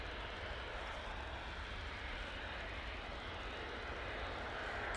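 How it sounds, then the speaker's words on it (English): A TUI Boeing Dreamliner arriving at Manchester Airport from Cancun produces a constant, faint broadband engine roar from a distance, steady throughout with no voices. "it's a Dreamliner, just arrived from Cancun"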